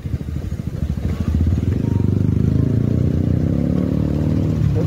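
A fully modified V3 motorcycle being ridden hard, its engine a loud, steady, throaty rumble with a rapid pulsing beat that builds in the first second and then holds at high revs close by.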